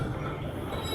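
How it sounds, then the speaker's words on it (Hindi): A Marvi Express passenger train stopping at a deserted railway station in Pakistan, with a low steady rumble of wheels and carriages and faint metallic clinks, close by. "आज पता नहीं क्यों ये ट्रेन भी स्टॉप कर रही है"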